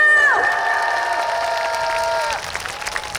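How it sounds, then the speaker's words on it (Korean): Audience applause and cheering at a lively Korean sing-along event in Hoengseong, a steady crowd wash lasting a few seconds under a sustained tonal line, then thinning out near the end. "박수 한 번 주세요 박수"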